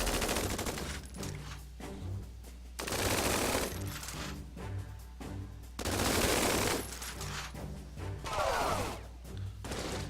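Heavy gunfire erupts from all units in the strategy video game Tiny Metal, rapid machine-gun bursts in loud repeated waves with short gaps between volleys, over a steady low game hum.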